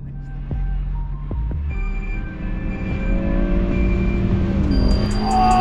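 A BMW M140i and a VW Golf accelerate hard side by side in a drag race. Steady engine roar rises in pitch as the cars gain speed, with a couple of sharp transients early and a higher whine building toward the end.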